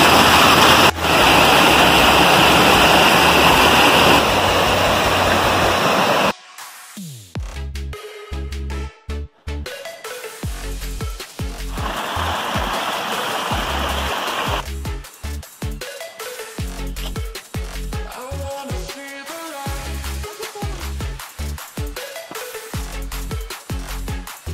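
A waterfall and stream rush through a canyon on Iztaccíhuatl, with a loud, steady roar for the first six seconds that then drops to a quieter, more varied wash of sound.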